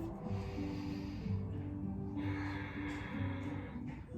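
A deep, slow breath drawn and released during a yoga flow and core exercise session: a soft, airy hiss of breathing that swells and fades over steady background music.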